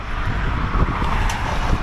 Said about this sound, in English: I hope you can hear this because it's windy up here